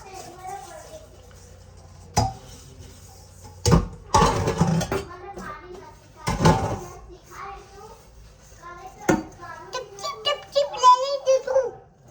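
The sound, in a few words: washing dishes, pots and utensils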